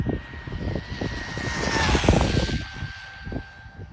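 Small RC aircraft motor screams at full throttle on a 4S LiPo battery, a steady high-pitched whine with a constant tone and fluttering buzz, loud and close throughout.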